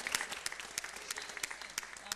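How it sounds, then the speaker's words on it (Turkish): A television studio audience claps in a steady patter of applause, fairly faint and continuous throughout, with no clear voices over it. "gelsin güzel alkışlar"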